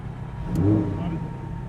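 A Lamborghini drives down the Goodwood hill course, its engine a steady mid-pitched drone that swells briefly and settles, heard from inside the car under low background rumble.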